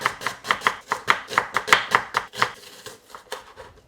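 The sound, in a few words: thinly slicing onions with a knife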